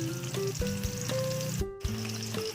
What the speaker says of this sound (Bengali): মাছটা প্রথমে নুন হলুদ মাখিয়ে ভাজতে দিলাম